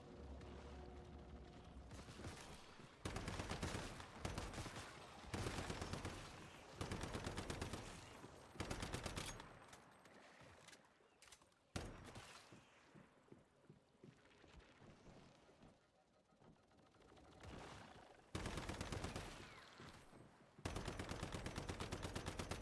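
Repeated bursts of rapid automatic gunfire from a powerful weapon in the survival shooter Once Human, loud sustained volleys separated by brief pauses and scattered single shots, with no talk.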